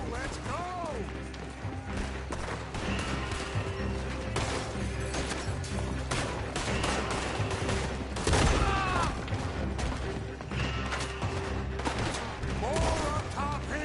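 Rapid gunfire from a Red Dead Redemption 2 shootout, with dense overlapping shots and loud cracks throughout, mixed with game voices and a spike of heavier blasts midway.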